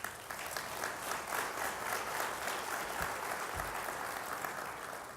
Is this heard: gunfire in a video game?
no